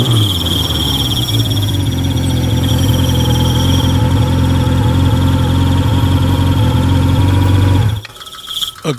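Loud, steady drone of a motorcycle engine with a detached exhaust pipe, low rumbling tones holding constant for about eight seconds before cutting off abruptly, with a high insect-like whine running throughout.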